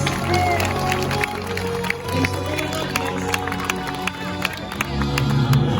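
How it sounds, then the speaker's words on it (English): A crowd at an animal actors show at Universal Studios applauds and cheers steadily throughout, with a dense wash of clapping and scattered whoops, fairly loud and continuous. "How about a round of applause for Iris and Olympus?"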